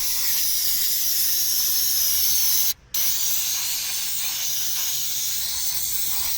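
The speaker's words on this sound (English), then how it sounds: "Go ahead, cake this thing down with some coil cleaner real good." Coil cleaner sprays from a can onto the coils of an AC condenser in a close, continuous hiss, broken once by a brief pause and then resuming steadily.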